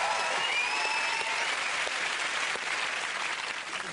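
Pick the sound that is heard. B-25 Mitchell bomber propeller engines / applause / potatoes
applause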